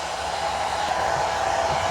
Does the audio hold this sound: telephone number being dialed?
no